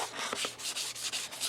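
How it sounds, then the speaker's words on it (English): Sandpaper rubbed by hand over a wooden surface in steady, even back-and-forth strokes, a continuous close scratchy hiss with regular pulses and no voices. "when you're sanding this, you don't want to go 3 or 4 different ways"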